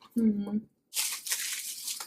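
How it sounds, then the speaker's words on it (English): A cardboard box of Chocolate Frog candy is opened with crisp tearing and crinkling up close, after a brief spoken moment. "let's see what's in this box. If I can open it without destroying the box."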